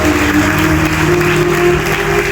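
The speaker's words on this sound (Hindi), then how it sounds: "जोरदार तालियां बजा दे खुदा के लिए।" A church congregation claps loudly and continuously during a pastor's sermon, a thick, steady wall of applause with a faint sustained tone running underneath.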